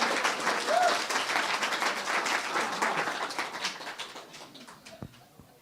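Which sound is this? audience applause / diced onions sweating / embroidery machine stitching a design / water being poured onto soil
audience applause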